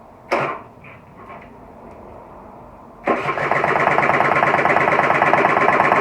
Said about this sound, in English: we've got a spark plug in, so it's turning over with compression